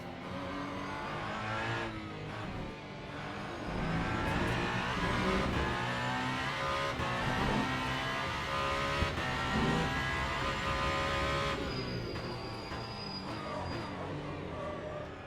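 A hypercar in Le Mans Ultimate laps the COTA circuit, its engine snarling steadily with rising and falling revs through gear changes and corners, loud and continuous from start to end.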